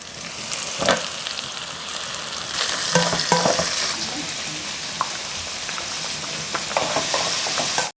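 Tomatoes sizzle and crackle loudly in a hot pan for a fish curry, a dense, steady frying hiss with occasional stirring scrapes, up close and uninterrupted.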